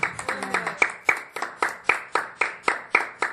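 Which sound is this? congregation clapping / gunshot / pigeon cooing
congregation clapping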